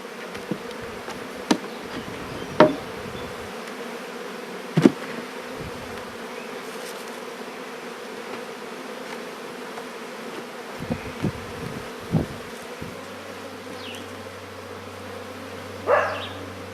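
Honey bees hum around a hive being split in a spring walkaway split with a queen excluder between two boxes, a continuous low buzzing with scattered sharp knocks and clicks from handling the equipment, no voices.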